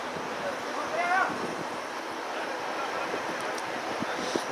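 Strong wind at about 3,950 meters on a mountain at Gulmarg rushes steadily across the microphone in a constant roar, with a faint voice briefly audible beneath it.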